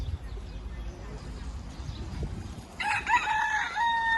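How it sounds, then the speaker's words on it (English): Chickens in a park, a rooster crowing loudly near the end after a stretch of low background noise and soft clucking, with a voice talking. "There, look at all the chickens."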